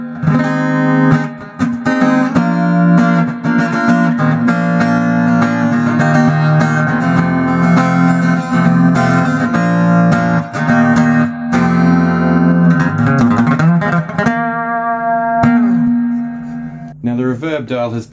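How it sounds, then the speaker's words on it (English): An acoustic guitar plays through a Peavey Ecoustic 112 amp set to a bassy, scooped tone, with strummed chords and picked notes ringing loud and warm, then fading to sparse notes at the close. "let's try a more bassy sort of a sound"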